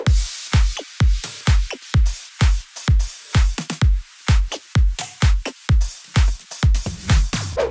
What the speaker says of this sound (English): So drums all together, they sound like this.